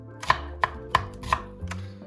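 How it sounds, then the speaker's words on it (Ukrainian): A knife slices steadily through an onion into half-rings on a cutting board, five crisp strokes at an even pace, close up, with no talking. "Цибулю нарізаю напівкільцями"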